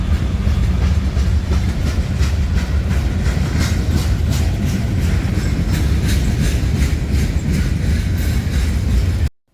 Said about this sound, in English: Our last train in Kentucky would be NS 170 with a pair of 5 units on the head end